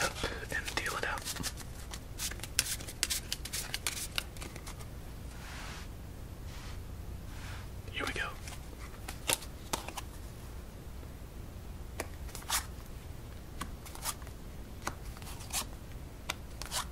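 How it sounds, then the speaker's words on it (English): A deck of playing cards is cut and dealt out for a solitaire game at close range, giving soft papery slides and sharp little snaps and taps at irregular intervals, with faint whispering throughout. "cut it up and deal it out"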